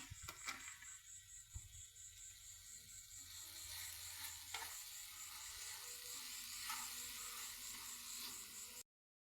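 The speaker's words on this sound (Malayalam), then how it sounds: "നല്ലോണം ഇളക്കി കൊടുക്കുക. ഇങ്ങനത്തെ രൂപത്തിലാവണ വരെ ഇളക്കണം." Powdered jaggery mixture stirred in a hot pan, a steady soft sizzle with occasional scraping taps of the spoon, close and fairly quiet, no talking, ending abruptly.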